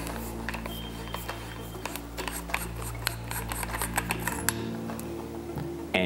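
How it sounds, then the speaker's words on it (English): A moderator is unscrewed from the first barrel section of a Skout Epoch rifle, giving irregular light metallic clicks and scraping close by over a steady low hum. "you're also going to unscrew the moderator from the first section"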